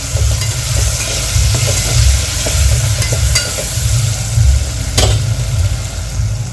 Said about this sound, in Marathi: आता टोमॅटो सुद्धा छान मऊ होतपर्यंत याला शिजू शिजू द्यायचं आहे